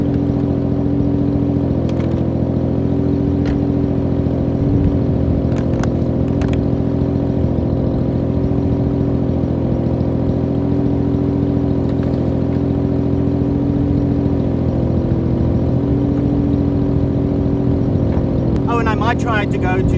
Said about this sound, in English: we might as well do a burnout